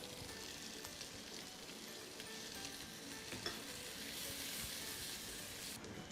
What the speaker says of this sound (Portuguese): Agora que o alho já dourou, eu vou entrar com a cebola.